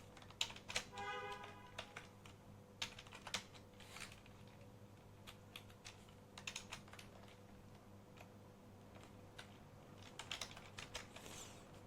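Irregular clicks of typing on a computer keyboard, close but faint, with short bursts and pauses over a low steady room hum.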